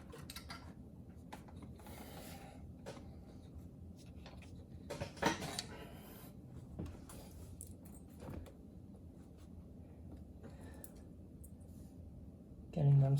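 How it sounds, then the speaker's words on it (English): Bottom bolts hand-threaded while a supercharger is reinstalled, with quiet close metallic clicks, ratcheting and small clanks of hardware scattered throughout, plus a louder knock near the end. "just hand tight the bottom bolts"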